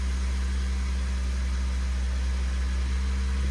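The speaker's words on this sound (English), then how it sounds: "Let's start the engine." Hyundai Ioniq hybrid engine running at a steady idle, a continuous low hum with strong bass tones and a faint hiss, holding even and fairly loud throughout with no talk.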